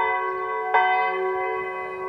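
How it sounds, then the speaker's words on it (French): A village church bell in Brittany rings with a sustained, harmonically rich tone, struck once more clearly partway through so the ringing swells and then lingers steadily without any voices. "on propose sur ces bornes, bien sûr, d'entendre la cloche de ce village"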